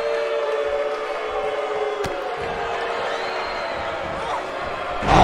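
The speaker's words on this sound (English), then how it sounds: "this crowd are nearly rioting" Crowd at a women's tag-team wrestling show roaring in a steady, sustained swell that fills the hall, with a sharp slam-like thud partway through and a louder surge at the end.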